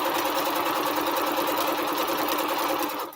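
A sewing machine runs steadily, stitching fabric strips together for a Triple Irish Chain quilt. It makes a continuous close-up whirring hum with a fast, even needle rhythm and eases off at the very end.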